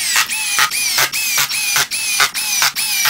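A drill drives screws into Kreg K5 dovetails in a run of short, evenly spaced whining bursts, about seven in quick succession, close and fairly clear with brief gaps between.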